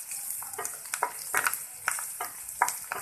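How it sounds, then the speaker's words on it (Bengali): Onions and boiled rohu fish roe fry in oil, a close crackling sizzle dotted with frequent sharp pops and spoon-stirring clicks, with no voices over it. "তারপরে পেঁয়াজ আর রুই মাছের ডিম যেটা সিদ্ধ করেছিল তার তেলে ফেলছি"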